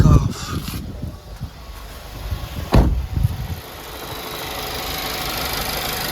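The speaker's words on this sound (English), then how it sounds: "You do hear a little bit more of the motor noises and turbo noises" A turbocharged car engine fitted with an Integrated Engineering intake idles steadily, a rising whistling turbo and intake hiss building toward the end, after a few loud knocks and someone talking early on.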